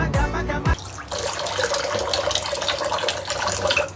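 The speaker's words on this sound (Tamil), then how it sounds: "அருமையான பாகிஸ்தானி பீஃபை தம்பி ஃபைமு நல்லா தேய்ச்சி கழுவுறான்" Pakistani beef being scrubbed and washed under running water from a tap, a steady close rush of water with splashing and handling noise throughout, no talk.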